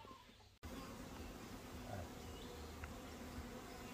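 Dense swarm of honey bees buzzing steadily and close around a village beekeeper at the hive, a continuous drone after a brief quieter moment at the start.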